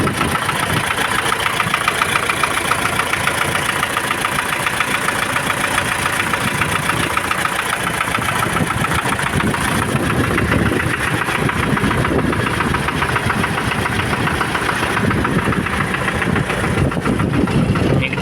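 An MTZ-80 tractor diesel engine idles after injector adjustment with a loud, rough, continuous clatter close by, running evenly throughout without any speech.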